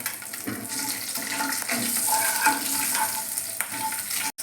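Panch phoron spices and green chillies crackle in hot oil for a yogurt hilsa curry, giving a loud, dense, continuous sizzle close up with faint clinks underneath.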